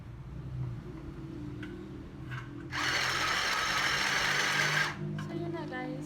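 Sewing machine stitching thrifted clothing: a single steady run of fast, even stitching lasting about two seconds, close by, between stretches of quiet room noise and light handling sounds.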